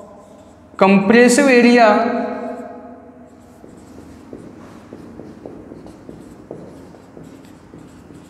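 Chalk or marker taps and strokes on a board during a reinforced concrete engineering lecture, faint and intermittent after someone speaks briefly in Hindi.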